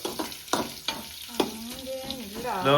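Onions and green chillies frying in a pan, crackling sizzle with sharp stirring clatters near the start, then a voice humming or singing over the frying toward the end.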